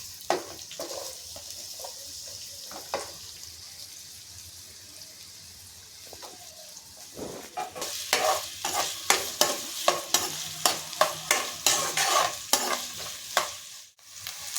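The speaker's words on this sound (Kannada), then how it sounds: "ಎಣ್ಣೆ ಕಾದಿದೆ, ಈಗ ಈರುಳ್ಳಿ ಹಾಕ್ತಾಯಿದ್ದೀನಿ" Onions drop into hot oil and are stirred, starting with quieter clatter and then settling into a loud, continuous sizzle punctuated by rhythmic scraping strokes, close to the pan.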